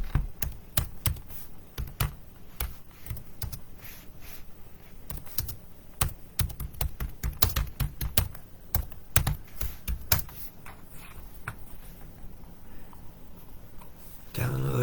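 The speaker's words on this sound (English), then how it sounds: "I'll just type it." Rapid, irregular clatter of keys on a computer keyboard, bursts of typing with short pauses, close and fairly quiet, ending with a brief change in background near the end.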